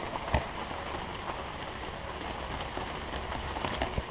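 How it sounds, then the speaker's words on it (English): Continuous rain patters steadily on an Island Packet 31 sailboat on Lake Michigan, a dense, even hiss with occasional louder drops and faint knocks. "It's raining outside."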